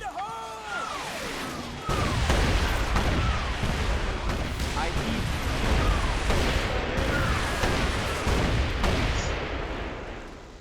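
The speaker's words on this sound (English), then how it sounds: "You get that arty strike very early on in the game." An artillery strike in Mercenaries 2: World in Flames, a heavy boom starting a string of rolling, overlapping explosions and gunfire cracks that go on loud for several seconds.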